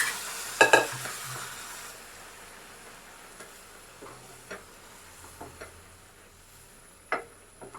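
Squid roast (kanava) cooks down in a pan with added water, giving a faint, steady sizzle broken by scattered clicks and scrapes of stirring, louder at first and then sparse.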